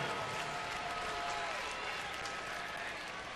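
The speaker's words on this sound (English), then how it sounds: "you can hear a lot of Giants fans here to cheer on their first place team tonight" A dense crowd of San Francisco Giants fans cheers and applauds steadily at a ballpark, a continuous, fairly distant roar without clear peaks.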